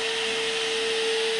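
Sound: hair dryer blowing air through a seal

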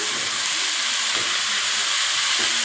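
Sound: frying in oil for mushroom biryani

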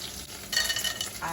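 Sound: fish and bori lentil dumplings frying in oil

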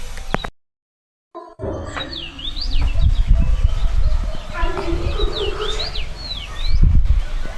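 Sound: birds chirping outdoors in the morning

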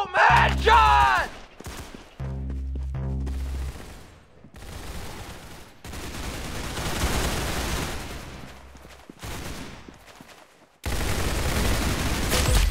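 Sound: gunfire in the video game Roblox Arsenal

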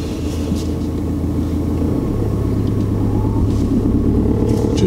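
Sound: car being driven and parked by a learner driver

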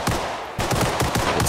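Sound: gunfire and bullet in video game Arma Reforger

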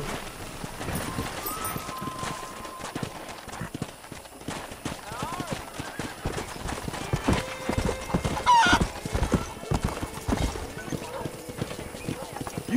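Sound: horses' hooves and whinnies in Red Dead Redemption video game

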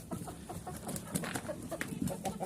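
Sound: chickens being let outside

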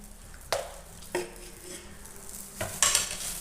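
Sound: stirring goat milk and oils for soap making

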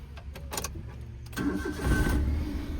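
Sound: Maruti Alto LXI petrol car engine starting

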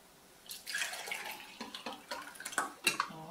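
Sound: water being poured out of a measuring jug

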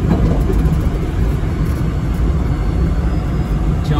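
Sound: road noise of DIY electric VW Rabbit car driving

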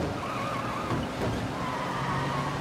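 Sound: car driving and skidding in Mafia Definitive Edition video game

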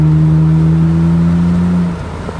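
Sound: 2010 Nissan Maxima 3.5L V6 exhaust

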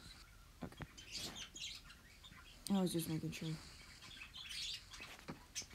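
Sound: pet birds chirping in the background

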